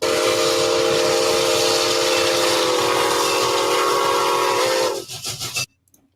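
A model train's steam whistle with quilling blows as one long loud continuous tone, wavering briefly before cutting off abruptly into near silence.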